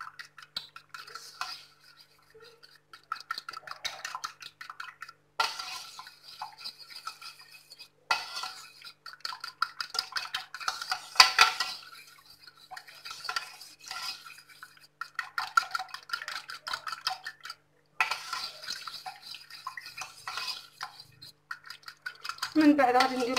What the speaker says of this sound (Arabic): خلطوا الكل مع بعضياته حتى يتجانس